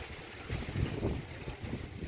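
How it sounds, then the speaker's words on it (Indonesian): Strong gusty wind at the Klinterejo Majapahit archaeological site under a darkening sky before rain, buffeting the microphone in low rumbling gusts that swell and fade, with no talking. "Ini anginnya cukup kencang kawan"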